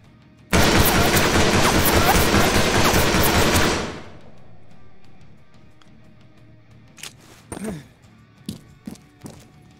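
A machine gun in a military video game scenario fires a loud, dense, sustained burst for about three seconds, then cuts off. A few scattered thumps and knocks follow, and a voice can be heard faintly.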